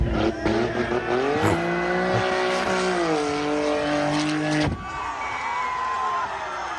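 A car engine runs loudly and steadily with a sustained droning tone that rises and dips slightly, then drops abruptly to a lower rumble near the end, with crowd noise in the background.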